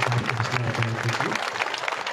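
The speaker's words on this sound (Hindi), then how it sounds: "एक बार ज़ोरदार ताली बजा कर के गनी गाजी साहब को" An audience at an Urdu mushaira in Lakhanwada breaks into a sustained round of applause, a dense wash of clapping from a crowd with a voice heard faintly underneath.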